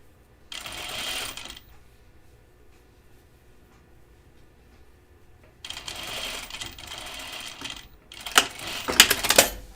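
A sewing machine runs up a seam on a 1940s New England dress in two close bursts, a short run, then a longer run ending in rapid clattering stitches, with quiet between.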